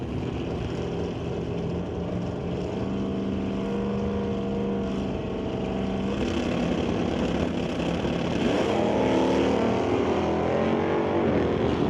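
A hot rod drag race car launches hard and lifts into a wheelie at a drag strip, its engine roaring loud and continuous, climbing in pitch as it accelerates down the track.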